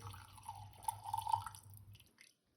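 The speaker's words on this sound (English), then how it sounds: "we're going to pour it in a vessel that can hold the bacon grease" Bacon grease is poured from a pan into a vessel, a faint, close trickle and drip lasting about two seconds before it stops.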